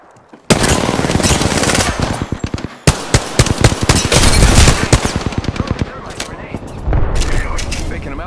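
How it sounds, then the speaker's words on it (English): Dense Apex Legends gunfire plays as rapid automatic bursts with scattered single heavy shots and impacts, loud and close throughout, with a brief gap partway through. "Getting shot at."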